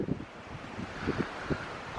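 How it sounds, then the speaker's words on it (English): Strong southwest wind buffets the microphone in low, rumbling gusts at an open site by an abandoned one-room schoolhouse, with irregular thumps over a steady blustery roar. "it's a really windy day out here"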